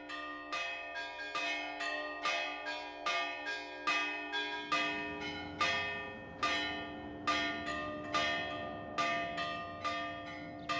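Church bells in Astrakhan, Russia, rung by two improvising ringers, sound in a loose rhythmic pattern of repeated clear strikes, each ringing out with a long, resonant decay.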